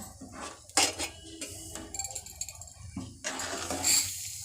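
A spoon scrapes and clanks against a metal cooking pot as food is stirred, irregular close-up clatters and rattles with short pauses between strokes.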